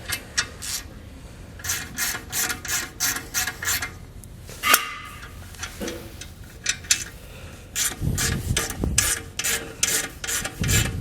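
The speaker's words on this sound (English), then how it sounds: "take a 7/16 inch wrench and socket, and we're going to remove the lock nuts on the inside here of these 3 bolts" A 7/16 inch wrench and socket backing lock nuts off three bolts while installing a TorkLift GlowGuide handrail on a camper, giving rapid rhythmic ratchet clicks in bursts with rubbing metal scrapes, close and fairly loud, no talking.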